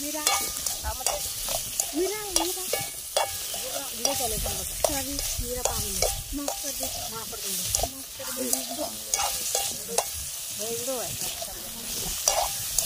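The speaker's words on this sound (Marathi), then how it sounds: "आता आम्ही परतून घेत आहोत बघा." Paneer is sautéed in a pan, crackling and sizzling steadily while a spatula stirs and scrapes at frequent intervals, with someone speaking over the cooking.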